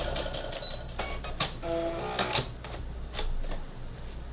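A sewing machine stitches a half-inch seam through yellow cotton face-mask fabric in a few short, separate bursts with pauses between them. The sound is close and steady, with no talking.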